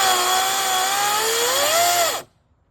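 An Ego cordless chainsaw with a controlled throttle runs at a loud, steady electric whine. The pitch wavers and rises as the throttle is eased, then cuts off abruptly into near silence.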